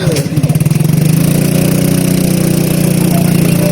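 A motorcycle engine runs loud and close with a steady, rough droning hum, a few pulsing revs at the start settling into a constant tone.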